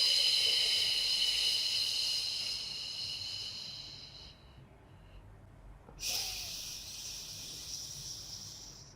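A long, forceful exhale through the mouth during a beginner Pilates core breathing exercise, a steady close breathy rush that slowly fades, followed after a brief pause by a second softer breath.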